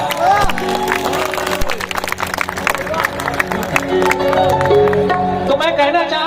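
An audience claps and cheers for singers and musicians at a live Chhattisgarhi night stage show, sustained dense applause with crowd hubbub and music continuing underneath throughout.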